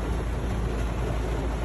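Heavy rain pours down at a worksite in Digos, a dense, loud, unbroken roar of water with deep rumbling underneath and no pauses.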